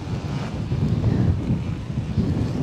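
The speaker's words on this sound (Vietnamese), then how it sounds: "hiện tại gió rất là lớn các bạn" Strong wind buffets the microphone on an open hillside slope at a scenic spot in Đắk Lắk, Vietnam, a steady loud low rumble with gusty swells and no speech.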